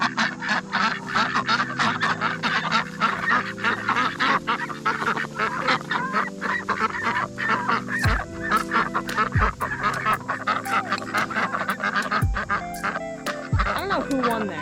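Guinea fowl or ducks honk and squawk close by in a noisy, overlapping chorus beside cows on a farm, with harsh repeated calls over a pulsing backdrop.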